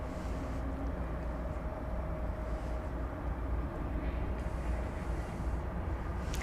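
Boeing 787-8 Dreamliner at night at DFW Airport, a steady broadband jet engine rumble with a faint whine, continuous and moderately distant, no voices.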